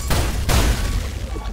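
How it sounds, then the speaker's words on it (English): Dense rumbling explosions in the video game ULTRAKILL boom in quick succession, a loud, continuous barrage of low blasts with sharp bursts layered on top. "Kinda epic just looking at a shit ton of these explosions though."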